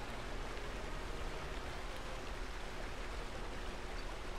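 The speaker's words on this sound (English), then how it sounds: "Going down a waterfall." Water rushes down a waterfall in Pokemon Snap, a steady, dense hiss of spray that holds at one even level throughout with no pauses.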